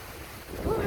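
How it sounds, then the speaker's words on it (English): Wind buffeting a microphone outdoors, a brief low rumbling gust that swells louder toward the end. "But windy out."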